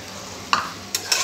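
Green chilli paste being stirred into frying chicken, with three short scraping strokes of the spoon against the pan over a low, steady sizzle.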